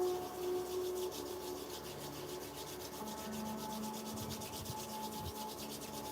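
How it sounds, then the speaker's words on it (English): Palms rubbed together quickly in a circular motion during a guided breathwork session, giving a steady, close, continuous brushing hiss that runs unbroken throughout with no talking. "I invite you to rub your palms together in a circular motion."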